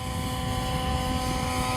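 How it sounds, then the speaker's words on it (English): RC helicopter flying 3D practice moves, a steady whirring rotor and motor drone with no break. "Stop the helicopter, turn the tail again, come back to center."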